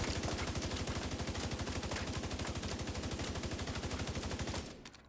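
An MG5 machine gun in The Division 2 firing one long, steady automatic burst of rapid, evenly spaced shots, loud and close, that stops abruptly near the end.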